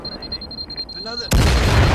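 Grenade explosion in a first-person shooter video game, a sudden loud blast that bursts in after quieter gunfire and ambience and keeps rumbling to the end.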